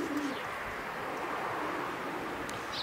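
A racing pigeon arrives at its loft during a winter timed race, with soft cooing and faint bird calls over steady background noise, near and alone without talk.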